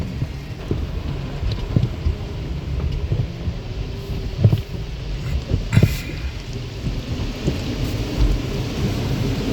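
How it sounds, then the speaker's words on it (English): Water sprays onto a car going through a drive-through car wash, heard from inside the cabin as a low rumbling drum of water. Irregular thumps and splashes hit the body throughout. "Going through the car wash here."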